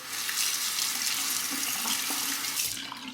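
Tap water runs steadily from a faucet while a Parker 71R double-edge razor is rinsed, a continuous close splashing hiss that holds for about three seconds before easing slightly at the end.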